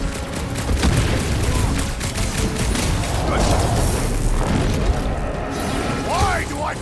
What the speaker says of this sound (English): way too much shooting!